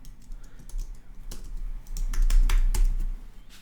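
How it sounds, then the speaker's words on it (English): Quick, irregular keystrokes tap on a computer keyboard at close range, growing slightly louder and busier toward the end with no voice over them. "So I'm going to just type in Sarah,"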